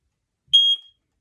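A home smoke alarm sounds during its monthly test, giving one loud, shrill, steady electronic beep of about a quarter second, close by, then silence.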